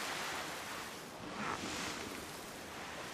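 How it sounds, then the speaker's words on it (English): Rushing water at the edge of a waterfall in the video game Guild Wars 2 forms a continuous broadband wash. It stays even and fairly faint throughout, with a slight swell partway through. "Being on the edge of the waterfall like this."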